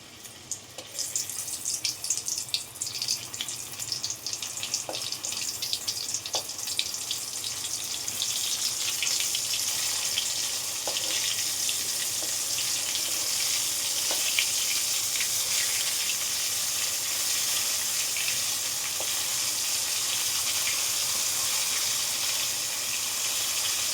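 Lote fish sliding one by one into hot mustard oil for a Bengali jhal, a steady bubbling sizzle with faint crackles that continues evenly throughout and is heard without talk.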